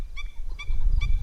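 Ducks on the water, including teals and red-billed ducks, give three evenly spaced nasal honking calls over a low rumble of wind and background noise.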